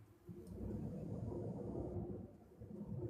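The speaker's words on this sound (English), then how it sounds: "That is a jet." A jet aircraft rumbles faintly overhead, a low, steady, distant roar that swells slightly and holds for a few seconds with no speech.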